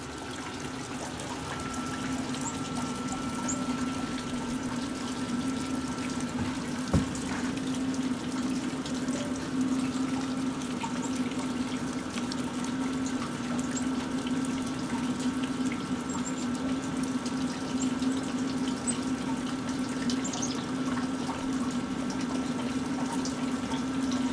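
Maple sap runs through sugar bush vacuum tubing in a steady, continuous gurgling flow with a constant low hum underneath, moderately faint and without interruption.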